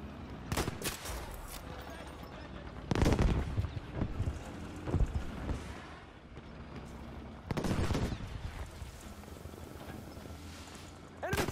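Bursts of machine gun fire and heavier gunshots in the wartime shooter game Battlefield 5, loud repeated volleys at about 0.5, 3, 5 and 8 seconds over a steady rumbling battle background, with no talk.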